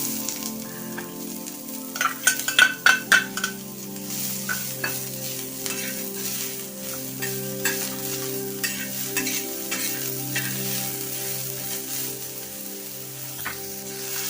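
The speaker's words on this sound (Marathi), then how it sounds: "आता हे याच्यात तव्यात कांदा टाकते" Onion fries in a little oil on a tawa while being stirred, giving a steady close sizzle. A cluster of sharp scraping strokes comes early, followed by lighter, intermittent stirring; there is no talking.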